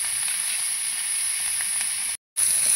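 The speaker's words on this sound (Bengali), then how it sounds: "চিংড়ি মাছটা ভাজতে দেবো।" Prawns sizzle and hiss steadily as they fry in a pan for potol-chingri, a close, even frying crackle that cuts out briefly near the end and then resumes.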